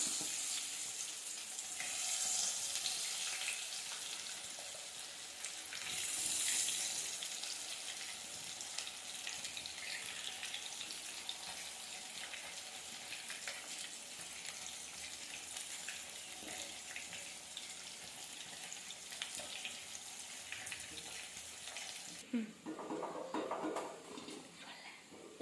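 Meal maker soya chunks deep-fry in hot oil, a constant bubbling hiss that holds steady for a long stretch, close and moderately loud, with a brief clatter near the end and no voices.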